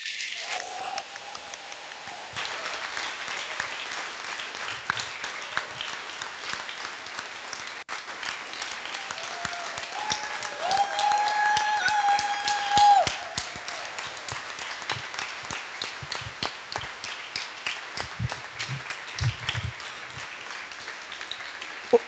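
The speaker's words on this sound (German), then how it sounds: "Großen Applaus für das Team." Audience applause at the lernOS Convention 2022 in honour of the conference team, a dense, steady round of clapping lasting about twenty seconds, swelling briefly near the middle before settling again.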